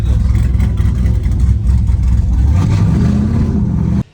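A truck engine roars loudly and continuously nearby, revving hard for burnouts with a heavy low rumble that cuts off sharply at the end.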